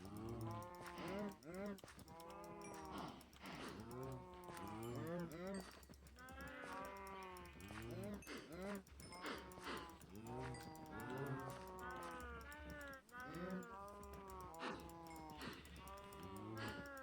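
Cows in the video game Minecraft moo over and over in a steady, overlapping chorus of low, drawn-out calls, close and fairly loud throughout.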